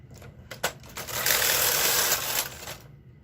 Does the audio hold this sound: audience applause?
no